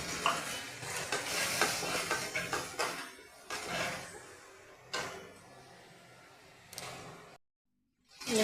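A spatula scrapes and stirs a spice paste with a little water in a pan for a Bengali cauliflower curry, with a faint sizzle beneath. The bursts are irregular and close, and the sound ends in a brief silence.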